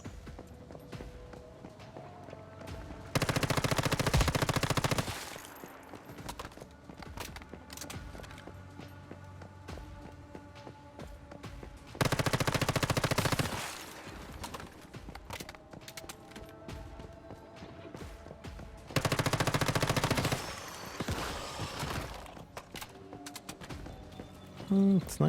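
Submachine gun fire in the game Once Human, three loud dense bursts of sustained automatic shots, each lasting a couple of seconds, separated by quieter gameplay and talk.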